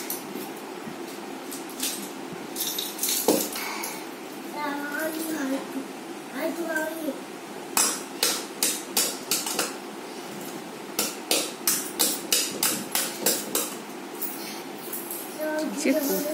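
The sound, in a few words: breaking a red clay pot (money bank)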